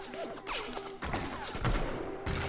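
Gunfire in BioShock, several sharp shots and crashing thuds in quick bursts, loud and close, set against a background of game music.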